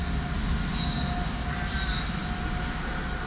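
Locomotive 231 hauls a train through on the Newry–Belfast line, a continuous loud rumble and roar with faint high whines, steady for the whole stretch and with no voices.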